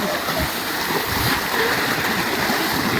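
People bathing and splashing in Khanpur canal water make a continuous broadband wash of churning water and splashes, steady and fairly loud throughout, with a faint murmur of voices mixed in.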